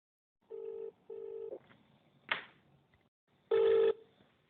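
Telephone tones on a call to a private jet charter company about a Bombardier Global Express XRS: two short steady beeps, a brief click, then a louder ringback-like tone, alone with no talking.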